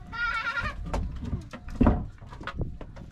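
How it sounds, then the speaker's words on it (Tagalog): Goat bleating in a farmyard, a wavering nasal cry at the start followed by scattered knocks and rustles, fairly close with no talk. "Tinanan mo pala ang kambing ha."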